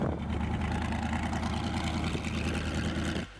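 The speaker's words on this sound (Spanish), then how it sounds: "ahora reunía multitudes para escuchar su motor V8 rugir" A 1970 Chaparral 2J race car's V8 engine drones loud and steady for about three seconds, with a dense, rumbling growl, then cuts off abruptly near the end.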